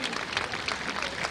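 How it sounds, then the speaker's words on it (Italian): Audience applause at the Palio das Cjarogules in Paluzza, a steady wash of clapping from a crowd, moderately loud and continuous with no talk over it. "Facciamogli un applauso e lui alzerà le braccia se riesce."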